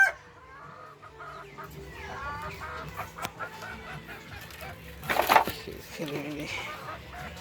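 Chickens cluck intermittently close by, with faint background voices and a brief louder flurry partway through.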